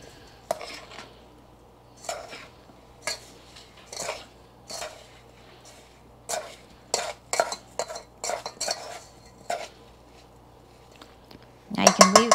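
A spoon gently folds blueberries and blackberries with flour and sugar in a mixing bowl for pie filling, giving soft, irregular scrapes and taps against the bowl, spaced out and close, with a louder clatter at the end.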